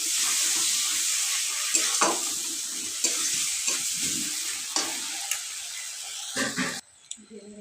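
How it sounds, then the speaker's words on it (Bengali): Spice masala with green chili paste frying and being stirred in a pan for a fish curry, with a steady loud sizzle and hiss broken by repeated scraping stirs, ending abruptly. "সুন্দর করে মশলাটা আরও কষিয়ে নেব সব রকম দিয়ে।"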